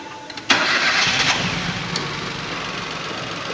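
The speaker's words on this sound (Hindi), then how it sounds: "स्टार्ट कर गाड़ी।" A Datsun Go with a misfiring engine cranks and catches, a sharp start followed by a steady running idle that gradually settles; no talking.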